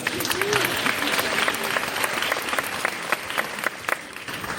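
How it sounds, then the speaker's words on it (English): Applause from an audience at a classic film festival tribute, steady and dense with scattered sharper claps for several seconds, with a faint voice underneath. "You can clap for that."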